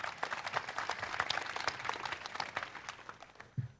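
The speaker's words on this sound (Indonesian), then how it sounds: "Tepuk tangan dulu buat Oki Mandasari." Audience applause for a speaker at a talk, a dense, fairly quiet patter of many hands clapping at once, holding steady before tapering off.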